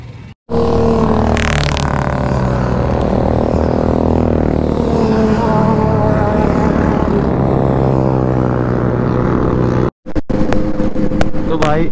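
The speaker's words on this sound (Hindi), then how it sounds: "इतने सारे राइडर्स मैंने आज तक कभी नहीं देखा भाई, इतनी सारी बाइक्स" A large pack of motorcycles on an anniversary group ride roars past in a dense, continuous drone of engines whose pitches shift as bikes accelerate and pass, with voices faintly mixed in.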